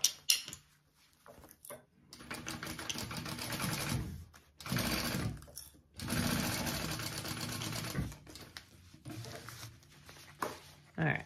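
A home sewing machine runs in several loud, steady bursts while stitching a bag seam at the full seam allowance, its motor whirring and pausing between runs.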